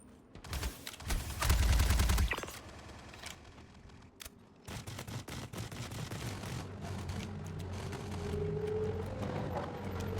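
Rapid gunfire from a Project Hyperion video game, a dense burst of shots early on followed by scattered single cracks, then a quieter mechanical hum as the shooting fades out.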